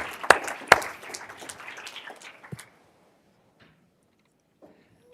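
A debate audience bursts into applause for the debaters, with a couple of sharp claps standing out as the clapping rises, then quickly dies away into near silence.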